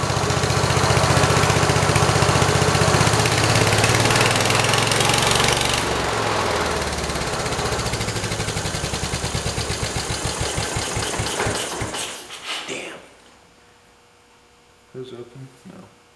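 A 1968 Kohler 112 small engine runs loud and close with a steady drone, drops to a slower chugging idle, then sputters down to quiet with a few faint knocks.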